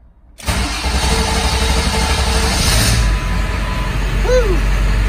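A Ford F350 truck engine cranks briefly and then catches, settling into a loud, close, steady running rumble, with a faint squeal rising near the end.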